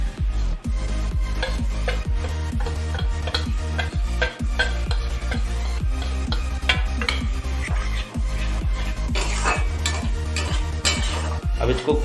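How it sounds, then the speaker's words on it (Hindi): Coriander, turmeric, cumin powder and garam masala frying in a pan for a potato curry, with a steady loud sizzle and repeated close scraping strokes of a spoon stirring throughout. "अब इसको कुछ देर के लिए हम फ्राई करते हैं"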